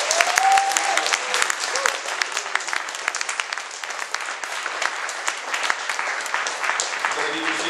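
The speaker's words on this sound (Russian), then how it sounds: "Аплодисменты великому Богу." Congregation applauding during a church service, a steady dense wash of clapping that holds for the whole stretch, with faint voices mixed underneath.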